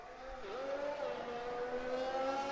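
A Formula 1 race car in the Alpine livery, from an F1 racing video game at the Bahrain circuit, holds a steady, loud engine whine with a pitch dip and recovery as it runs past, heading toward the pit lane.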